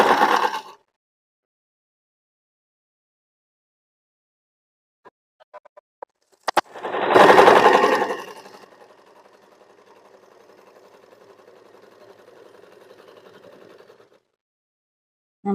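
A sewing machine stitches elastic onto fabric, running in a loud burst after a few quiet clicks, then continuing in a softer steady whir before stopping.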